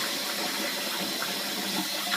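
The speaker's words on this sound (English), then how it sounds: "I'm just going to give it a little rinse here." Running water rinses a shaving brush, a continuous close splashing rush under a tap with no pauses.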